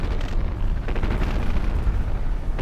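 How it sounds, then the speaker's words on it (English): Big explosion in a battleship combat video game, a loud rolling blast with crackling bursts and rumbling booms continuing throughout, dense and close with no voices. "Had a big explosion there."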